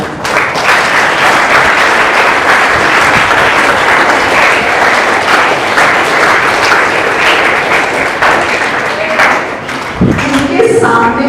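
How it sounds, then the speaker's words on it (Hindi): Loud, sustained applause from an audience at a school speech event fills the whole stretch, dense and steady clapping, with a voice emerging near the end. "सब जोर से तालियां।"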